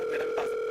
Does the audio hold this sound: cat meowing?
no